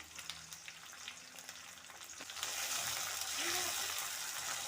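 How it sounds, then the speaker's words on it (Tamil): Ingredients such as curry leaves, garlic and tomato frying in hot oil in a pan: a quiet start with clinks, then the sizzle swells into a loud, steady crackling hiss that holds to the end. "நல்லா பொரிஞ்சு கொண்டிருக்குது."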